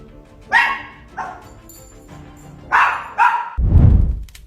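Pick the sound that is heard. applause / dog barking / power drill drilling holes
dog barking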